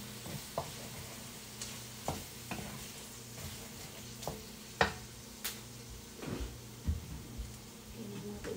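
Fried rice being stir-fried in a pan with oil, giving a steady low sizzle broken by sharp scrapes and clacks of the spatula against the pan at irregular intervals.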